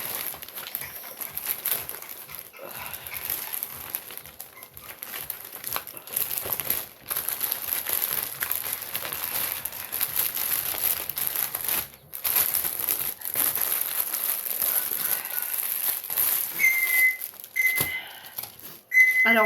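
Small plastic zip bags from an AliExpress diamond painting order crinkle and rustle close up, a dense continuous crackle lasting the whole stretch with a few brief pauses and no talking.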